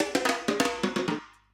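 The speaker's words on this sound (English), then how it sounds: "there's also this cool little djembe fill" A djembe fill in a cinematic, primal-style track: about seven quick, resonant hand-drum strikes in a loose rolling rhythm, close and fairly loud, ending in a short decaying tail.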